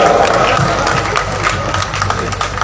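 Loud, dense applause and cheering from a large crowd at a Dussehra festival in Kolkata's Central Park, greeting cricketer Sourav Ganguly as he is invited to speak. The roar stays steady and close throughout with no speech over it.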